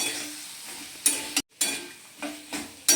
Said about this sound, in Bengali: আলুটা আমি ভালোভাবে কষিয়ে নেব।